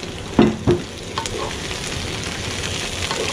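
Medium onions hit hot oil for an Indian chicken curry with two quick loud splashes, followed by a steady close sizzle with faint scrapes.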